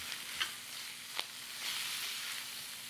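Onions frying in a hot skillet are stirred, a steady close sizzle with a couple of sharp scrape clicks from the utensil and a swell of hissing toward the end.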